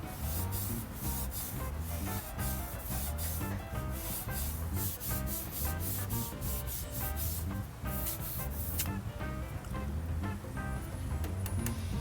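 Stainless steel is rubbed with an abrasive pad to blend in brush marks, producing continuous loud, rhythmic scrubbing strokes close up. The rubbing stays steady throughout with no pauses.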